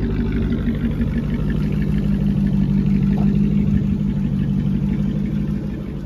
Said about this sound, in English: We got an exhaust leak on the car